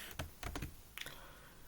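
Typing on a computer keyboard: a few quick, close keystrokes in small clusters, fairly faint, with short pauses between bursts and no talking.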